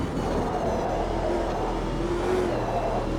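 Race car engine in a sim racing game droning steadily right after a downshift, a loud continuous mechanical roar with slight pitch shifts throughout, no voices.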